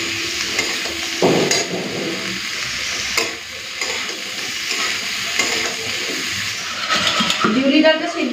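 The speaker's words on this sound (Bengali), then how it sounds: "প্রথমে ঝিঙেটাকে লাল করে ভেজে নিই" Ridge gourd frying in hot oil in a pan, stirred steadily, with a continuous close sizzle and scraping of the spatula throughout; a voice is heard briefly under the cooking noise.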